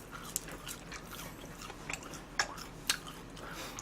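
Burger King French fries being bitten and chewed close up, a few soft crisp bites standing out over quiet mouth noises.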